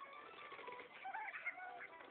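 Bird sounds from the Angry Birds video game are faint, small and thin. Chirpy, cooing tones flutter for about two seconds with no talking.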